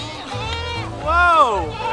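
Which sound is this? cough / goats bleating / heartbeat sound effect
goats bleating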